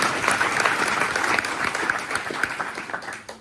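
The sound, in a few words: round of applause at town hall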